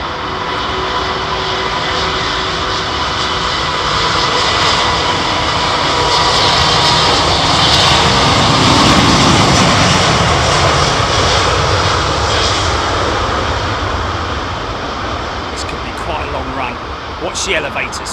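A jet airliner takes off at London Heathrow Airport, its engines building to a loud, sustained roar that swells and slowly fades with distance as people talk over it.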